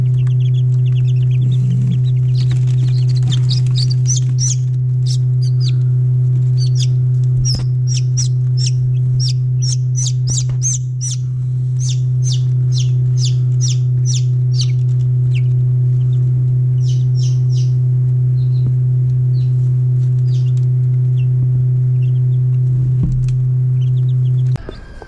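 Pekin bantam hen with her young chicks: a dense stream of rapid, high peeping from the chicks, with occasional clucks, continues for the whole stretch over a steady low electrical hum.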